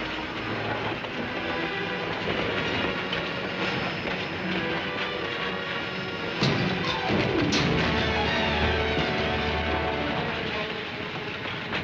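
A train rolls along the rails in a 1955 western, with a continuous rumbling, clattering clickety-clack that stays steady and fairly loud throughout, with brief metallic squeals partway through.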